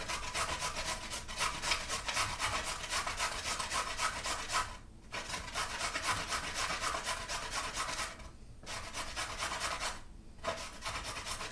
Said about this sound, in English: Grate this.